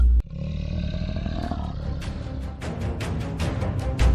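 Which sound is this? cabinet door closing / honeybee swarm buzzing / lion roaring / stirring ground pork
lion roaring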